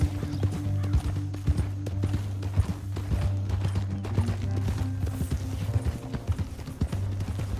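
Rhythmic clip-clop of horse hooves at a quick pace in Red Dead Redemption 2, loud and close, with a low steady rumble underneath and a brief whinny.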